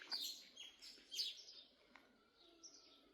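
An outdoor bird in Senegal calls with high, thin chirps and tweets, fairly soft and repeated irregularly over light background noise.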